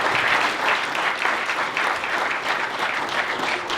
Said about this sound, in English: So some applause for Chris and his entire chamber.